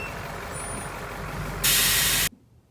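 A GM bus maneuvering in a yard idles with a low engine rumble, then lets out a loud burst of air-brake hiss that stops abruptly, leaving quiet.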